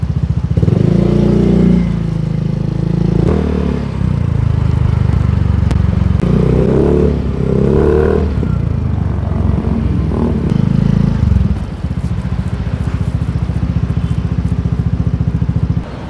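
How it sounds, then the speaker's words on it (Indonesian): A motorcycle fitted with a steel-cover exhaust muffler with fewer baffles rides along, a loud, close, throaty engine note rising and falling with throttle, then settling into a steady rumble. "sekarang kita kasih bonus suara pada saat jalan pakai knalpot yang ini ya"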